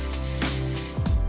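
Hair spray goes onto a styled curly flip-over wig in a few short hissing bursts, near and fairly soft over a low background hum.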